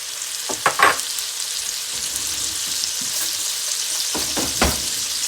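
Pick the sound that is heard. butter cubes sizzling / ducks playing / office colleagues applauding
butter cubes sizzling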